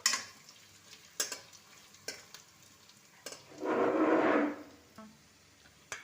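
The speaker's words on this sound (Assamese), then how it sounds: "এতিয়া ইয়াতে আমি আলুখিনি দি দিছোঁ। আলুখিনি অলপ টাইম ভাজি ল'ম।" Potatoes fry with browned onions in a pan, heard as quiet scattered clinks and scrapes of stirring, then a short burst of louder sizzling partway through before settling again.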